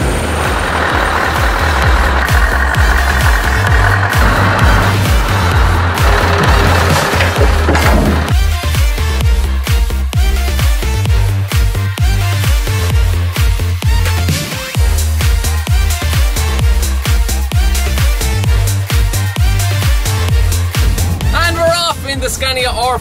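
Scania R560 V8 truck, a 2013 model hauling a trailer, pulling hard up through the gearbox: a steady loud low engine drone with shifting tone, heard continuously from start to end.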